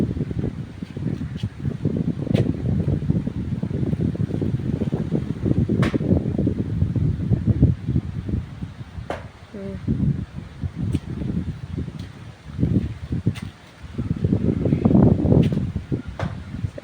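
Strong wind blows steadily outdoors through bamboo and trees in the rural Philippines ahead of rain, a continuous loud rushing roar with gusty swells and occasional sharp rustles or knocks.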